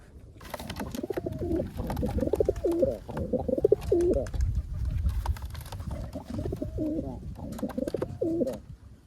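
Pigeons kept in wooden nesting boxes coo repeatedly in soft, rolling phrases, several birds overlapping close by, with a steady low murmur underneath and no talk.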